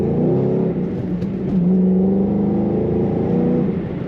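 A 2013 Ford Mustang Shelby GT500 engine pulls hard under acceleration, a loud steady drone that rises in pitch as it revs up, heard from close by.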